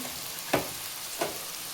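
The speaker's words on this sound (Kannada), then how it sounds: "ಈಗ ಇದು ಒಗ್ಗರಣೆ ಫ್ರೈ ಆಗಿದೆ" Oggarane tempering for shavige bath fries in a pan with a soft steady sizzle, broken by two brief scraping stirs.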